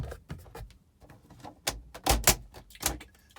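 Vent fly nets on a 2002 Autosleeper Symbol motorhome built on a Peugeot Boxer are worked by hand, giving a run of sharp plastic clicks and clunks, the loudest grouped near the end, with quiet gaps between them.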